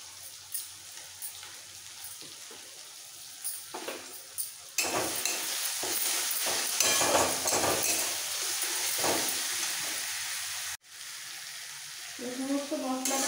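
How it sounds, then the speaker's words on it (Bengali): Ground spices such as coriander, cumin and red chilli powder sizzle and fry in a hot pan, a loud steady hiss broken by scraping stirs, with a brief pause before the frying resumes near the end. "সমস্ত মশলাটা খুব ভালো করে কষাবো"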